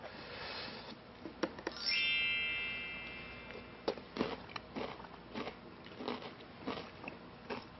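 Pickled radish served alongside chicken is bitten and chewed, giving a series of crisp, close crunches spaced irregularly through a quiet background.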